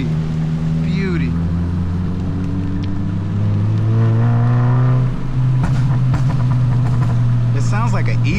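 A Hyundai Elantra N with a large downpipe and titanium exhaust drones deep and loud at close range, its tone swelling as it revs, while people talk over it.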